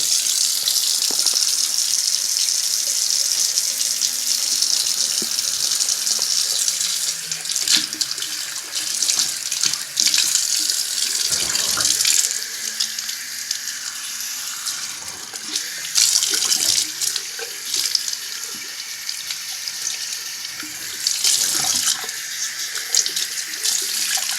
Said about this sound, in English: Okay, so now I'm going to rinse it out.